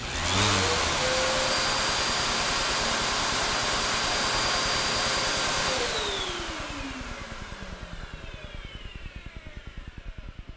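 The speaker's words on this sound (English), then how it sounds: "as soon as you turn the sander on, and listen, my vac will start." A shop vacuum and an electric sander run together loudly and steadily, a whining motor tone holding level, then winding down with a falling pitch while a rapid mechanical chatter carries on.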